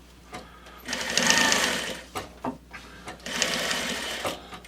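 Sewing machine stitching upholstery fabric for a club chair seat, running in two steady bursts of rapid mechanical stitching separated by short pauses and small handling clicks.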